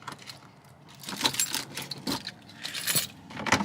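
Car keys jangle and clink in several quick, bright bursts close by, as if being pulled from a pocket.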